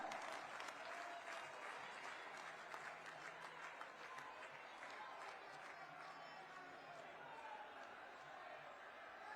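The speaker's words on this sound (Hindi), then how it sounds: "जोरदार तालियों के साथ स्वागत।" A crowd gives sustained, dense applause welcoming Prime Minister Narendra Modi at a political gathering, steady clapping from many hands throughout with no break.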